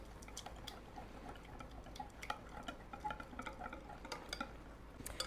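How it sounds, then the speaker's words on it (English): Cake mix batter whisked in a bowl, a quiet, steady scraping and tapping of the whisk against the sides with faint clinks, close and alone with no talk. "we're just going to whisk this around."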